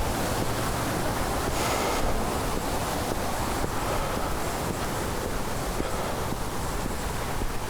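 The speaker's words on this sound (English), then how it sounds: "Well, you can hear the spillway, you can see it too." Water pouring over a spillway into a creek, a steady loud rushing roar that fills the whole stretch without pause, with some wind buffeting the microphone.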